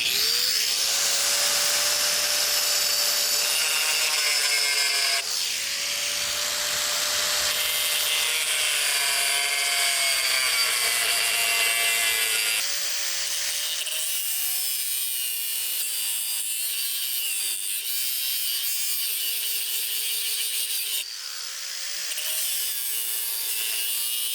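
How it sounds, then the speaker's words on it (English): An angle grinder running off an ALLPOWERS R1500 power station cuts through EMT conduit, a loud high-pitched metallic whine that holds steady with shifts in pitch as the disc bites, continuous for over twenty seconds. "we're gonna cut this EMT conduit"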